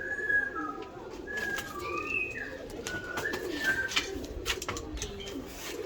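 Breeding pair of pigeons cooing close by, repeated soft warbling coos throughout, with occasional wing or cage rustles and a voice briefly present.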